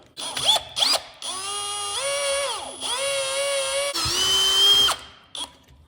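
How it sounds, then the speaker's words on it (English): A power drill whines loudly in several sustained bursts, spinning a spring off a Craftsman garage door opener, its pitch dipping and rising as the motor spins up and strains, with short pauses between. "I'm gonna use my drill to spin it off."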